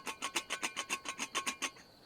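A loose metal lid on a Stanley Wildfare Go two-cup cookset rattles rapidly in a quick, even series of about a dozen tinny clacks, close and fairly quiet.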